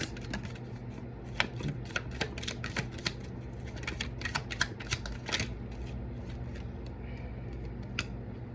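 Tarot cards being shuffled by hand, a dense run of crisp riffling flicks and slaps that rises and falls over several seconds, close and fairly quiet against a steady low hum, with no talking.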